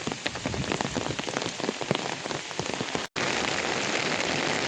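Steady rain pours onto a rice paddy during transplanting, a dense close hiss of drops that cuts out briefly and then returns at full strength.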